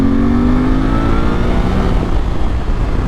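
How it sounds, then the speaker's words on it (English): Suzuki V-Strom 800 motorcycle with a modified exhaust and airbox revving under hard throttle, a loud, deep, steady engine roar held close with a slowly rising pitch and no talk. "on the throttle hard like that, it's got a really nice deep noise to it"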